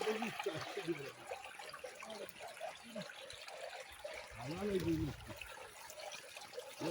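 Clear water trickles and flows beneath an apricot tree in Khanozai, a steady soft babble running throughout while someone talks over it.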